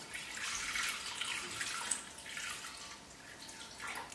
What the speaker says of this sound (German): Jetzt gebe ich 250 Gramm Milch in den Mixtopf.